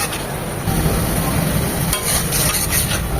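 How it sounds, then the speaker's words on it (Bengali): Garlic and ginger paste fries with onions in a pan for a chital fish curry, giving a steady close hiss and sizzle broken by scraping stirs. "সেটাকেও পেঁয়াজের সাথে ভেজে নেব যেন আদার ধাঁধালো গন্ধটা চলে যায়"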